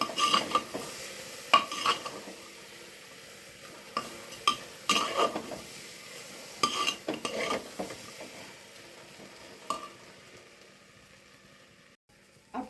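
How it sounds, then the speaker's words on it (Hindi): A pot of matar pulao gets its rice added, followed by quiet stirring with a spoon: soft scraping and metal clinks at irregular intervals in a home kitchen, with a faint sizzle underneath. "अब डाल दूँगी मैं इनमें ये चावल"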